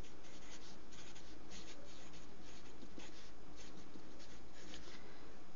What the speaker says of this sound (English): we would draw a pencil line